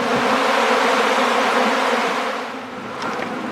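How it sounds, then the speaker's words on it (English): Dense, steady buzz of many honey bees flying in the air around an opened nuc box, a continuous close swarm hum that eases slightly near the end. "they're all flying around in the air"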